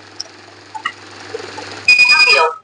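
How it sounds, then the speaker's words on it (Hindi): Currency counting machine sounding a steady electronic beep alert after detecting a counterfeit note, loud and sustained for under a second, following quieter machine clicks and faint room noise. "स्पीकिंग फीचर ने बोल के भी बताया और मशीन बीप के साथ अलर्ट कर रही है"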